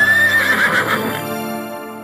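Horse whinnying in a Rajasthani DJ remix, one loud, shrill neigh that wavers and then fades into a lingering tail with a faint clip-clop underneath.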